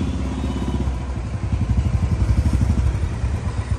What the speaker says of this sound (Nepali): मेरो भाइले तलदेखि बाइक निकाल्दैछ